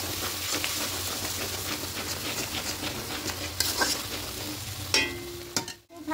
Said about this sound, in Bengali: খুব ভালো করে সমস্ত মশলা একটু কষিয়ে নেব।